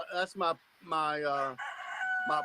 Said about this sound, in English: you hear my rooster?